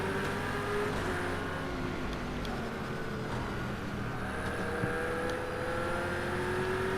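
Racing engines from a BMW 123 and two Aston Martins in a driving video game drone continuously, with steady rising and falling pitch tones as the cars run close together at moderate loudness throughout.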